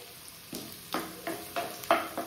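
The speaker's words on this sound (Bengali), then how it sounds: "এবার পেঁয়াজটাকে একটু ভেজে নেব।" Quiet sizzle of onions frying in a pan with a series of regular stirring scrapes, about five or six, and no talking.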